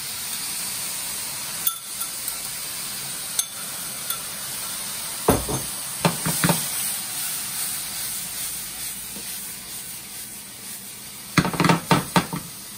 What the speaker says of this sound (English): I'm going to add the taco seasoning.